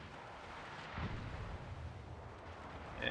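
Secondary guns of the battleship Massachusetts fire in a naval video game: a deep booming rumble swells around the one-second mark and rolls on under steady background noise, with a sharper burst at the very end.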